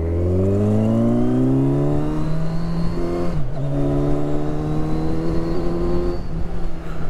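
Loud, close engine of a Kawasaki Ninja 1000SX motorcycle pulling in second gear up a steep hairpin climb, revs rising steadily, a brief dip around a shift or throttle change, then sustained strong acceleration with wind noise.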